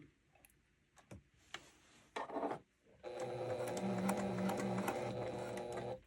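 A sewing machine back stitches a pillow seam: a few brief taps and handling noises, then a steady close, rapid mechanical stitching whir for about three seconds.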